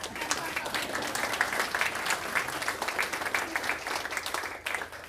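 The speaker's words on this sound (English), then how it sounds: "Everybody's smiling and clapping." A library audience applauds a barbershop-style vocal quartet, steady dense clapping throughout at moderate loudness, with a few voices faintly mixed in.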